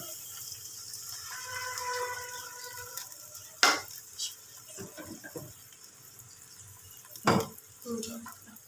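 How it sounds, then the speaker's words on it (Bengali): Warm milk is poured into a pan of lightly browned onions, bringing a soft sizzle, a few sharp bursts of hissing and clatter, and quieter stirring noises in between. "এবার আমি এর মধ্যে ঈষৎ উষ্ণ গরম করে রাখা দুধটা দিয়ে দিলাম।"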